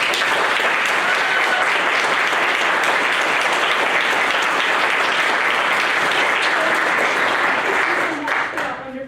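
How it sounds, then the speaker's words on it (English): Sustained applause from an audience at a senior reading series event for a student reader, steady and dense throughout before tapering off at the end. "please give a huge round of applause for Kaeli Seitz"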